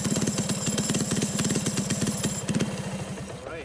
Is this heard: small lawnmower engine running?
yes